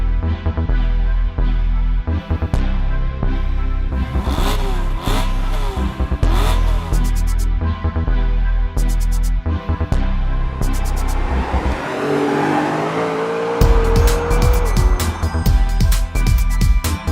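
A 2007–2013 BMW E92 M3 with its 4-litre V8 drives hard, revving up and down through repeated loud accelerations and gear changes, close and continuous with brief tire noise.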